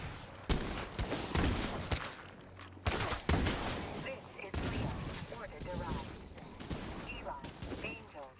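.50 caliber guns firing in the zombie survival game State of Decay 2: rapid, repeated heavy gunshots in uneven bursts across the whole stretch, loud and close, with someone speaking briefly among them.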